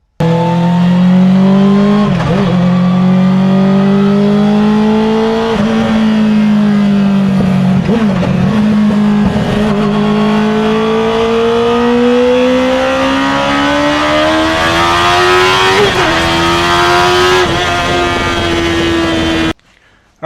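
A Mazda Miata fitted with a Honda CBR1000 motorcycle engine runs steadily along twisty street roads on Tecna coilovers, its high-pitched engine note holding loud and close, rising and dipping gently with throttle and shifts, with no voices.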